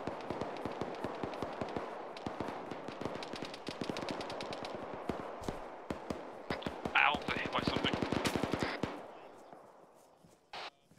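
Rapid bursts of automatic rifle fire and single gunshots crack across an open field during a military field training exercise, dense volleys for most of the stretch with shouted voices mixed in.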